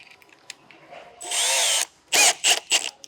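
A power drill fitted with a step bit cuts through a truck tub while fitting a tonneau roller cover on a Holden Colorado dual cab, giving one loud sustained whine followed by three short close bursts.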